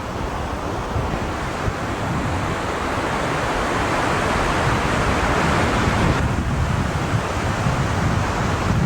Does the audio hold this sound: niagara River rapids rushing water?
yes